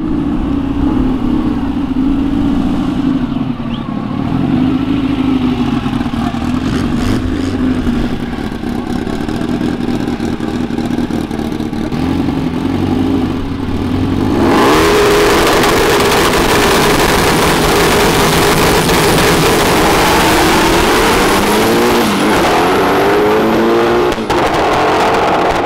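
A roughly 600 hp Subaru performance car rumbles loudly and continuously at a street meet, its engine revving and droning throughout with clattering noise, growing noticeably louder and brighter in the second half.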